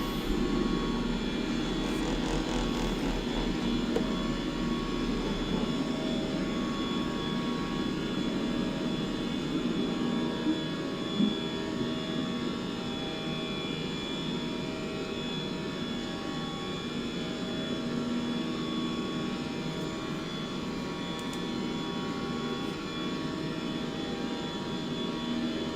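Jet airliner engines roar through a takeoff roll in a flight simulator game, a loud, steady broadband rumble with a sustained high whine that eases slightly partway through.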